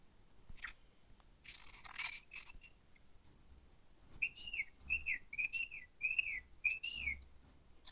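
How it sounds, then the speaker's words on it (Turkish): A person whistles a short run of rising and falling notes, about six quick phrases in a row, after some soft clatter. "ıslık çalıyor arkadaşlar"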